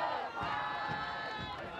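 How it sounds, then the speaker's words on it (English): Crowd at a high school soccer tournament match chanting together, a steady sustained mass of voices filling the whole moment with rhythmic swells. "some chants from the crowd directed toward Feehan in regards to their potential exit"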